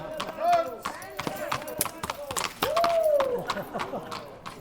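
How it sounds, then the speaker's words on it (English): A horse trots on snow while pulling a skijoring harness at the White Turf event, its rhythmic hoof beats running under a person talking throughout. "the horse continues trotting along"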